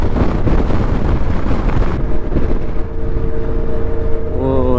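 Strong wind buffets the microphone across the open Patagonian desert, a loud roaring rush that eases after about two seconds, with a faint voice toward the end.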